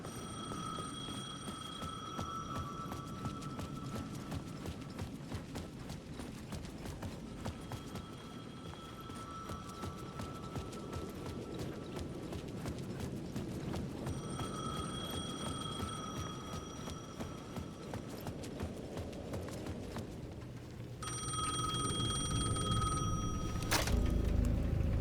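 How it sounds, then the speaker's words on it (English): A payphone ringing in a plaza, repeated bursts of a bright electronic ring with pauses between them over a steady outdoor rumble, growing louder and nearer toward the end. "payphone at the edge of the plaza was ringing again."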